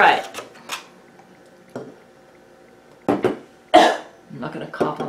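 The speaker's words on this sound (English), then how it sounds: "The allergy's making me cough." Several sharp allergy coughs in bursts, close by in a kitchen, with faint clinks of dishes and a quiet pause between coughing fits.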